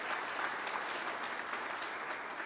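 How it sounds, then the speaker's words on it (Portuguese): A church congregation applauds its visitors in a steady, full round of clapping that holds at an even level from start to finish. "Vamos dar um aplauso aí, gente, para os nossos visitantes"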